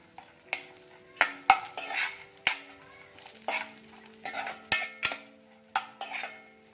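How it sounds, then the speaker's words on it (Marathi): Nuts are stirred and tossed in a pan, with sharp metallic clinks of a spoon against cookware and faint sizzling between the strikes; ghee is the frying fat, the nuts are almonds and cashews, and it is the dry-fruit step of a sabudana kheer. "तर हलकेसे तुपावर आपण परतून घेणार आहोत"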